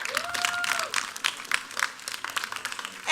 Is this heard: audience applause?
yes